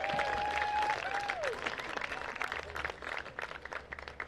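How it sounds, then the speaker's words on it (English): Applause from a crowd at a varsity high school baseball game, West Henderson at Franklin, honoring a senior player: moderate clapping heard from a distance across an outdoor field, with a whistle-like tone near the start. "Let's have another round of applause for number 4, Ben Waldrop."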